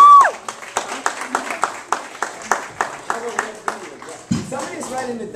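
Scattered audience clapping at a local dance show, a loose rhythm of sharp individual claps that soon thin out, with voices talking over them and a brief thump near the end.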